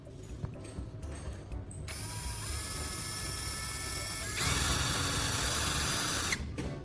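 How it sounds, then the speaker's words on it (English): A power drill bores into wood in a DIY job, a steady high whine that rises in pitch and grows louder midway before stopping near the end. "Then I turned the drill bit to a 45-degree angle and continued drilling."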